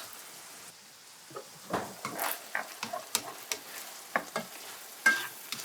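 Korean bulgogi beef sizzles quietly as it browns in a pan, with soft crackles and a string of sharp scraping taps from stirring, spaced irregularly and fairly close.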